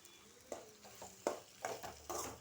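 Coriander powder stirred into duck gravy in a cooker, a spoon scraping the pot in a few separate strokes over a faint background sizzle, quiet and close.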